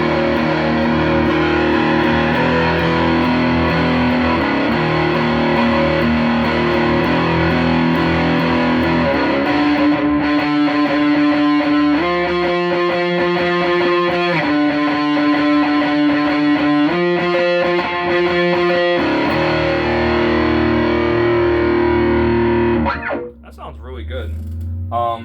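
Electric guitar through a pawn shop guitar amp, a loud distorted riff of repeated chords and sustained notes in a steady rhythm, played alone for over twenty seconds before cutting off abruptly.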